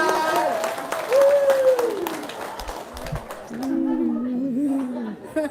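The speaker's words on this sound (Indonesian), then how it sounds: "Tepuk tangan" Audience applause at an Indonesian religious talk gathering, a dense wash of clapping from a crowd that swells and holds steadily for several seconds, with voices and cheers mixed through it.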